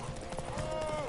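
Roach, Geralt's horse in The Witcher 3, gallops with a quick run of muffled hoofbeats that sit close and fairly steady over a short stretch, mixed with a sustained tonal game sound.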